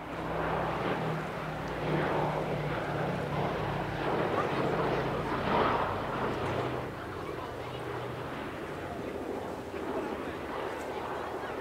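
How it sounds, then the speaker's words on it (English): The engines of a PBY-5A Catalina (Canso A) warbird drone at the RAF Cosford air show, a broad, steady mid-distance roar with a voice speaking over it throughout. "Plain Sailing's PBY-5A Catalina, actually technically a Canzo A as this one was built under licence in Canada."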